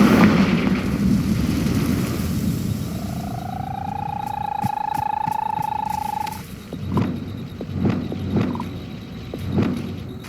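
A Confringo spell blast in Hogwarts Legacy, with a loud roaring explosive burst, a rising whooshing tone, then several sharp impact pops and crackles trailing off.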